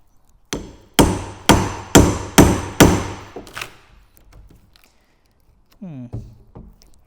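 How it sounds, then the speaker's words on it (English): Hammers strike parts for an Audi R8 in a workshop: six loud, ringing blows land at an even, steady pace, then fade into faint clinks and a brief scrape. "let's get some tools, hammers, and let's see if we can just"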